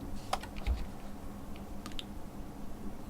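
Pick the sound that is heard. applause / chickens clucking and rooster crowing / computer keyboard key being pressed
computer keyboard key being pressed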